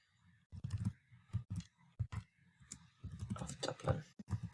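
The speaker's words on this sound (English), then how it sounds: "now I press my tab key, and I will start typing in graduated 2020" Rapid clicking keystrokes on a computer keyboard while entering CV details, irregular bursts of taps close to the microphone, with a voice talking over parts of it.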